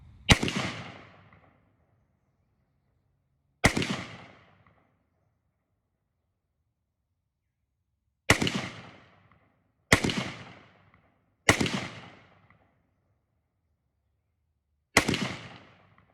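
Six rifle shots at a shooting range, each a sharp loud crack with a short echoing decay, fired singly at irregular intervals with silence between them.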